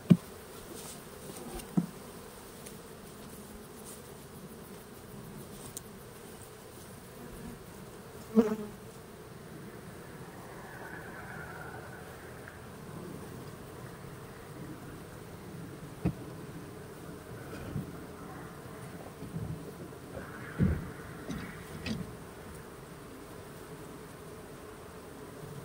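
Honey bees at an open hive during a strong honey flow make a steady, soft, close buzzing hum, broken by a few brief knocks and clicks.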